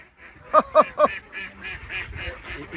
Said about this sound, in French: là, on a une flopée de canards, mesdames, messieurs